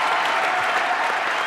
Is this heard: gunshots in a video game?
no